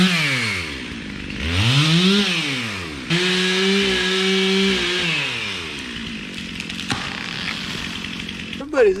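Chainsaw cutting cedar logs and brush on a land-clearing job, engine revving up and down in repeated rising and falling sweeps, close and loud, with a steady high-rev stretch in the middle.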